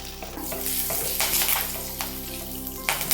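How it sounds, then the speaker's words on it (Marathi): Mustard seeds, cumin and curry leaves crackle in hot oil as a tempering for vada pav: a loud, continuous close-up sizzle with spitting pops and the scrape of stirring. "अर्धा टीस्पून आपण मोहरी घालूया अर्धा टीस्पून जिरे एक दहा ते पंधरा कडीपत्त्याची पानं"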